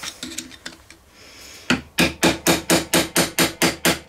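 Light scraping and taps, then a small hammer strikes metal on a Vespa engine part about nine times in a quick, even rhythm, close and sharp.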